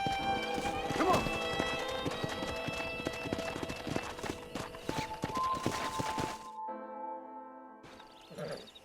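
Horse hooves gallop in a steady, loud clip-clop rhythm in the Red Dead Redemption video game, with a whinny near the start and a voice speaking over the hoofbeats before they stop.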